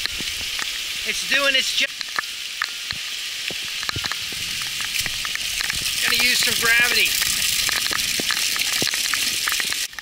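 Heavy rainwater rushing and gushing steadily through a diversion trench on a homestead, a continuous close wash of flowing water with rain hiss, while someone talks over it in two short bursts.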